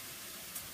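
Food browning in a pot for pasta fagioli soup gives off a steady, faint sizzle that holds evenly throughout, with no voices over it.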